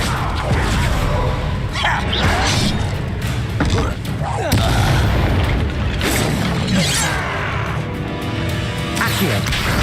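Fire-spell explosions burst amid a chaotic magic duel in the video game Hogwarts Legacy, loud crashing blasts and thuds layered over game music and effects, with a voice calling out spells.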